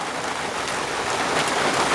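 Heavy rain pours steadily outdoors, a dense, loud, even hiss of drops drumming on surfaces with no pauses and no talking.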